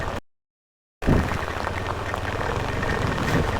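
Rain falling around Sakaleshpur during a drive, heard as a steady, full wash of noise that cuts in after a brief moment of silence and stays even.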